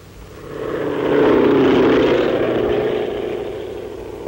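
A propeller airplane passes overhead in 1942 US Army footage of a gas attack on troops, its droning engine swelling to a loud peak and then slowly receding, steady and continuous.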